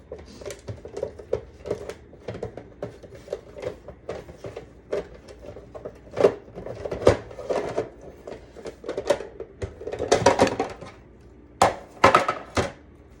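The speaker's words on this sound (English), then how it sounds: "red onion, I'm going to use our Rapid Prep mandolin, because that way I can ensure that each of my slices are even" Red onion sliced on a Rapid Prep mandolin makes a series of sharp, close clacks and scrapes that come fairly steadily and grow busier and louder toward the end.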